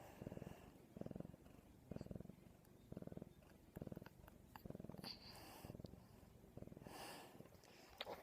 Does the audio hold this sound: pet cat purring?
yes